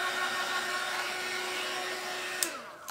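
A hair dryer blows steadily up close while drying a DIY gumball machine built from Dollar Tree supplies, a continuous whooshing whine that cuts off near the end.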